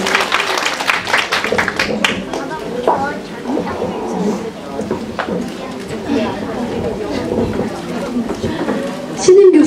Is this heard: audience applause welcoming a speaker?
yes